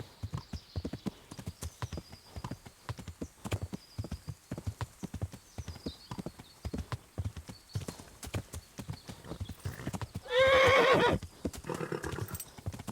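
Horse hooves clip-clop steadily at a brisk, even rhythm while riding through woods in Kingdom Come: Deliverance, close and continuous, with a short loud whinny near the end.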